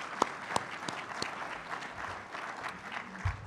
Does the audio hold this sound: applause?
yes